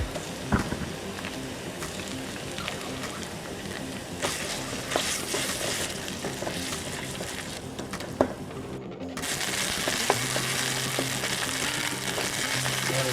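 Tomato paste sizzles and fries in a hot pan for a spicy pork ribs curry, a steady crackling hiss with scraping stirs, growing louder and denser partway through.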